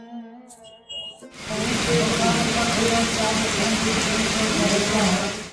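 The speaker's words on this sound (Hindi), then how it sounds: "बारिश पड़ रही है हल्की हल्की सी।" Light rain falls steadily as a dense, even patter close by, starting after a brief quiet moment with a voice at the start, then continuing alone at a constant level.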